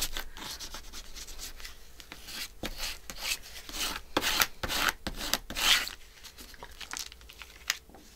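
Dried paint rubbed off a handmade waterfall journal page, a close, steady scratchy rasping of repeated strokes with a few louder scrubbing bursts and no talk.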